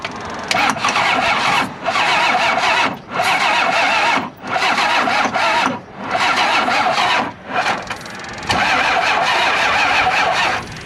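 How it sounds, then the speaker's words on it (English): A 1990 non-intercooled Cummins 12 valve diesel cranks on ether with the turbo not spinning, the starter grinding loudly in several long bursts separated by short pauses, never catching. "that was our first attempt to try to get this 1990 non-intercooled 12 valve started"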